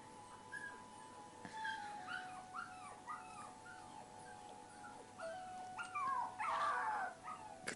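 A puppy whimpers in repeated thin, high whines and yips, some short and some drawn out, coming close and fairly loud with a steady background hum and no talk.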